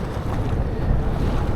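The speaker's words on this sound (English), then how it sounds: "it's ever so windy around here," Strong wind buffets the microphone by the Thames at Rainham Marshes, a loud continuous rumbling roar with gusty surges and no voices.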